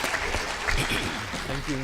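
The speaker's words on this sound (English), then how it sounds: "Another round of applause for Mitesh and the team." Audience at an audit committee conference claps in a short, dense burst of applause, with a voice speaking over it.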